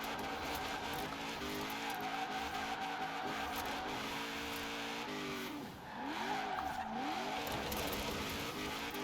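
Honda S2000 widebody drift build sliding in Forza Horizon 4, with steady engine drone and long tire squeal and skidding that waver as the car drifts, continuous and alone without talk.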